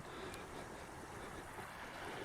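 A little creek at a campsite flows steadily, a faint, even wash of water with no distinct splashes, continuous throughout.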